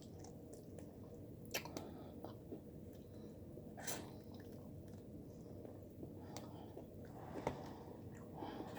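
Someone chews crunchy Church's fried chicken close to the mic, soft wet munching with scattered sharp crackles spread over several seconds, quiet and without talk.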